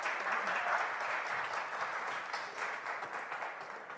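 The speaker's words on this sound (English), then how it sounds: "So please give them a big applause of welcome." Audience giving steady, full applause of welcome to presenters at a talk, a continuous wash of many clapping hands with no voices over it.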